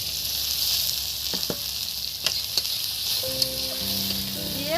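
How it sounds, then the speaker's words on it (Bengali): Chopped onions sizzling in hot oil in a kadai with garlic, a steady close hiss broken by a few sharp clicks of a spoon against the pan and a brief tonal ring near the end. "কেটে রাখা পেঁয়াজ আমি কড়ার মধ্যে দিয়ে দিচ্ছি"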